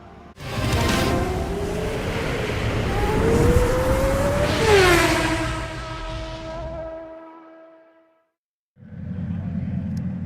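GB4 race cars sit in the assembly area at Snetterton, engines running loudly with rising revs and harmonic whine, then a short silence before the engine note returns.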